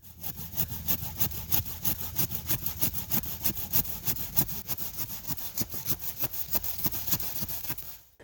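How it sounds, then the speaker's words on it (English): A hand saw rasps through a thick, woody red Russian kale stalk in a garden, a rapid, even series of back-and-forth strokes, close and continuous for several seconds. "When the scissors won't do, we break out the trusty saw."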